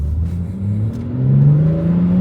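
A BMW X6M cruises with its exhaust flap closed, giving a steady, low, muted engine drone that rises gently in pitch as it accelerates, smooth and close with no talking.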